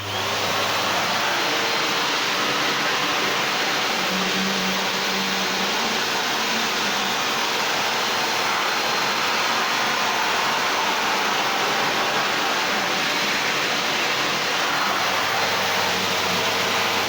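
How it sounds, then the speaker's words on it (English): Numatic Henry XTRA vacuum cleaner with a hard floor nozzle roars continuously and loudly, a steady broadband rush with slight shifts as it is pushed forward and back over a floor. "I'll just push it forwards and back, and we'll see how much this hard floor nozzle can pick up."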